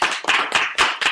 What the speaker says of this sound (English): Let's give Conan a applause.